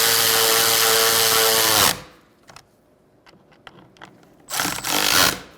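A power tool drives intake manifold bolts on a 2000-2007 Ford Taurus 3.0L V6, with a loud whirring run that stops abruptly, a quiet stretch with small clicks, then a second short burst.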